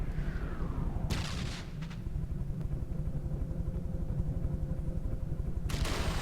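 Missiles and artillery pound a surface ship in a naval video game, heavy booming impacts with sharp bursts near the start and end over a constant low rumbling engine drone.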